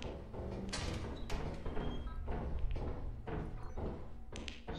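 Dull drumming thuds in Lethal Company, a series of muffled low knocks spaced unevenly over a few seconds against a quiet background, fairly distant.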